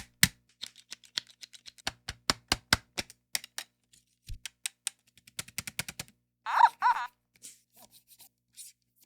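Sharp percussive hits tapped out on otamatones, the small electronic note-shaped toy synths, form a rapid irregular series of close, dry clicks, then a brief pair of louder pitched bursts near the end.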